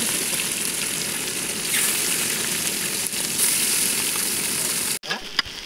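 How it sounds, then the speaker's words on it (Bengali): An 8-kilo katla fish frying in hot oil in a wok at a picnic, giving a loud, steady, close sizzle throughout, with a brief dip and clatter near the end. "এই যে মাছ ভাজা"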